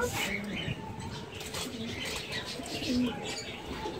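Pigeons cooing softly at a turtle dealer's shop, low murmuring coos with light chirps and some wing flutter over a busy background murmur.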